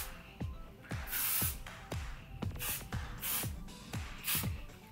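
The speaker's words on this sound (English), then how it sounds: "I'm just going to go in and spray one more time with hairspray." Repeated short bursts of hairspray sprayed onto freshly curled hair, about nine quick hissing puffs in an uneven rhythm, close and fairly faint with soft handling noise between.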